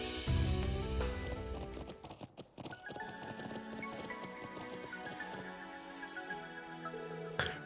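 Horse hooves clip-clop at a steady trot in Trails of Cold Steel III, a rhythmic patter of light, rapid steps running beneath game music.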